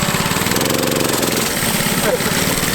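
A mini ATV fitted with a 212 engine runs loud and close, its rough, pulsing drone holding steady and then briefly climbing in pitch as it revs.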